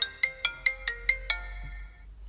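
A smartphone's loudspeaker plays a ringtone that sounds dull and muffled, with six quick bright chime notes in a rising pattern that then ring out and fade into a faint low hum.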